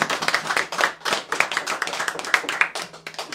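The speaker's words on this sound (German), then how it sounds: "Ich denke, das ist einen besonderen Applaus wert." Audience clapping at a village pub show, made up of distinct individual claps in a fairly sparse, uneven rhythm that keeps going throughout without any talk.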